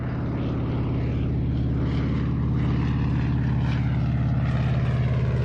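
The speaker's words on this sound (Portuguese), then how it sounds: "Estes são Canadair. Eles recolhem água do mar sem nunca aterrissar." Canadair water-bomber aircraft fighting fires on the Mediterranean coast, its propeller engines droning in a loud, steady, throbbing roar that holds throughout with no voices.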